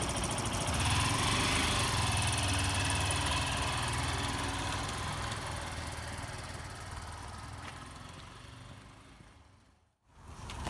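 A Kawasaki Z650 learner motorcycle idles with a steady mid-pitched engine drone and hum, fairly close and continuous, tapering off near the end with a brief dropout.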